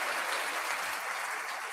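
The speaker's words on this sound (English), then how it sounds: "Let's give him a nice big round of applause and bring him on." Studio audience applause on a morning TV show, a dense continuous wash of clapping hands throughout at steady volume with no talking.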